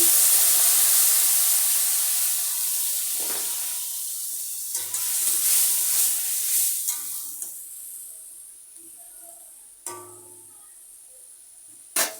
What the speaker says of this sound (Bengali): এখন এই মশলা অল্প জল দিয়ে মশলাটা করে দিচ্ছি